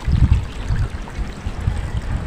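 Steady gushing hot water flowing out of a swimming pool heater, close by, with a low rumbling churn and no voices.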